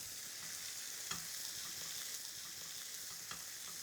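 Beef burger patties sizzle in a hot pan with a soft, even frying hiss and a few faint spatter pops. The sound is quiet and carries on without any voices.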